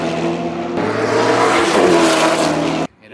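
Pagani Huayra and Koenigsegg Agera hypercars race side by side, engines roaring loud and close with a rising, strained tone building over a few seconds before cutting off abruptly.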